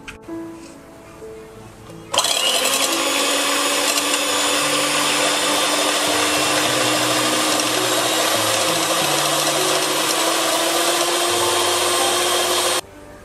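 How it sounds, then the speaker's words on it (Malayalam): Electric hand beater whisking two eggs in a large bowl for an oven-free orange sponge cake batter, a steady loud motor whir that starts abruptly and runs unbroken for about eleven seconds before cutting off. "ഇനി നമുക്ക് നന്നായിട്ട് അങ്ങ് ബീറ്റ് ചെയ്തെടുക്കാം."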